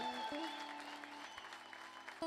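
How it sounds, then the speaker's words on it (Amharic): Congregation applauding to praise the Lord at a live-streamed church service, a steady broadband wash of clapping under a faint sustained musical tone. "እስቲ ጭብጨባው ለጌታ"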